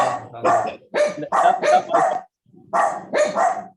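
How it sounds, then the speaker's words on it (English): Several dogs bark in quick bursts of two to four yaps, loud and close, with a brief pause before a final run of barks; no talking over them. "No, it's dogs."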